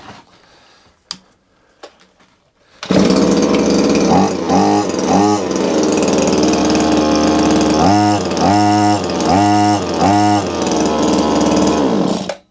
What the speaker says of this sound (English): now I'm going to fire the machine up and see if that hasn't actually done anything at all